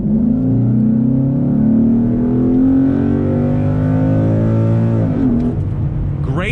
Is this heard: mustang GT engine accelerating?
yes